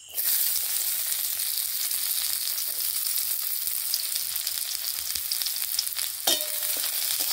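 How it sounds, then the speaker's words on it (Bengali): Chopped onions frying in mustard oil in a wok give a steady, close, bright sizzle that holds evenly throughout, with a brief stir or clink near the end and no talk. "পেঁয়াজটা ভালো করে লাল লাল করে ভেজে নেব।"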